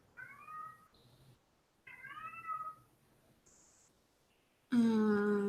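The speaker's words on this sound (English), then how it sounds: "I hear kitty." A cat meows several times in short, separate cries with quiet gaps, fairly close, followed at the end by a louder burst of another sound.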